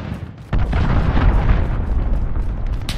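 A cruise missile strike in the Call of Duty Modern Warfare beta hits with a sudden loud boom, then a heavy, sustained rumbling roar that fills the rest of the moment.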